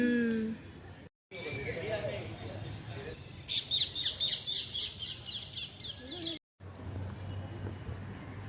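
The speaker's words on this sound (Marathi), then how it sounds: "खूप पोपट आहे त्या झाडावर" Parrots call from a leafy tree in Pune, giving a burst of quick, bright chirps and squawks in the middle, heard faintly behind people talking nearby.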